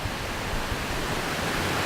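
A waterfall at Ferne Clyffe State Park near Goreville, Illinois, on New Year's Eve after heavy rain, making a constant full rushing wash of water that stays even in level throughout.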